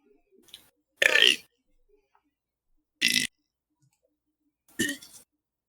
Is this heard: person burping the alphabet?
yes